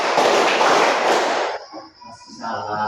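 A group of people clap together on called counts during a training session: a dense, loud burst of many hands for about a second and a half, then it thins to scattered taps with a voice murmuring underneath.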